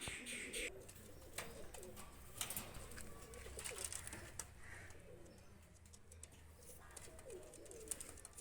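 A pair of Pakistani high-flyer pigeons, a male and a female, coo softly and fairly distantly, low throaty calls recurring over quiet background rustle.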